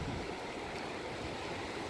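Sea waves crashing against rocks on a black sand beach, a continuous dense rush of churning surf, fairly faint with no voices.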